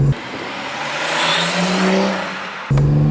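Turbocharged B58 engine swapped into a BMW E46 Touring wagon building boost under acceleration, a loud rising whir and engine roar that swells mid-pass, then cuts back to a steadier idle-like hum near the end.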